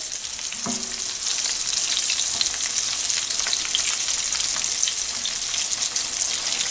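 Chicken tenders frying in hot oil give a loud, continuous close-up sizzle with fine crackling, a brief clatter near the start, and no talking.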